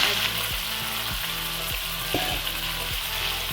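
Bone-in chicken pieces frying in hot oil over medium heat as they are stirred, a dense close sizzle with soft scraping beneath it. Nobody speaks.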